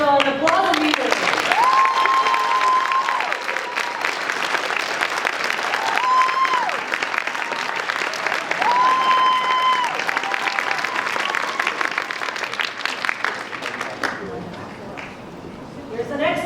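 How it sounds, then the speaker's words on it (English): Costume contest audience applauding winners at a convention, dense sustained clapping and cheering for about fourteen seconds, with a few whistles rising above it, fading near the end. "let's have an applause and meeting"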